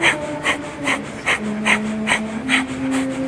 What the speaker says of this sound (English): begin that breath of fire